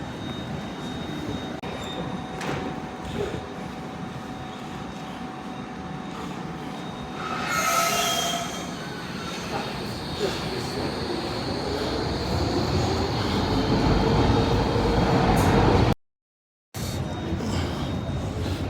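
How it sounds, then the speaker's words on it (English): Riding aboard a Docklands Light Railway train, a steady rolling rumble and wheel hum fill the carriage, with a brief brighter squeal midway. A sharp break cuts in near the end before the rumble resumes. "We're now going to get on the DLR, the Docklands Railway"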